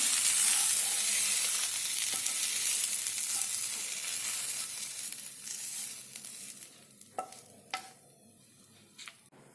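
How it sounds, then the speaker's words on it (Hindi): Tomatoes roasting in a pan over low heat, a steady close sizzle and hiss that gradually fades, broken near the end by a few sharp clinks and scrapes of a utensil. "टमाटर को सॉफ्ट होने तक भून लिया"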